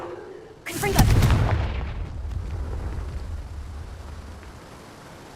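Confringo fire spell bursting in Hogwarts Legacy combat: one loud, booming explosion with a sharp attack and a rumbling tail that fades over several seconds.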